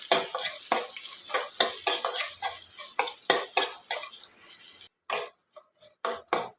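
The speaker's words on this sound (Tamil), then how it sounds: "ஒரே ஒரு வெங்காயம் இதுவும் இதோடு போட்டு கொஞ்சம் சவக்கிற அளவுக்கு வதக்கலாம்" Onion sautéing with ginger in a pan for semiya kichadi, a spatula scraping and clinking against the metal in regular strokes over a soft, bright sizzle, close and fairly loud, briefly dropping quiet near the end.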